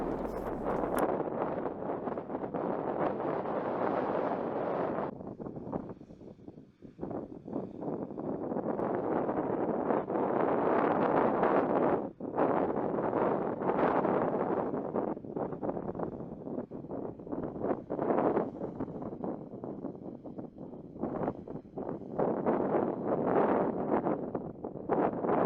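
Strong wind on Tiritiri Matangi island roars steadily and loudly across the whole stretch, buffeting the microphone in gusts with brief lulls, with no voices heard.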